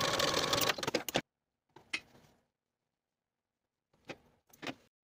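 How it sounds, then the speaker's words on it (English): A sewing machine stitching darts in dress fabric: a loud mechanical burst of stitching, then silence, followed by a few short, softer runs close by. "Now I'll take both darts to the sewing machine and sew from the outside edge to the point"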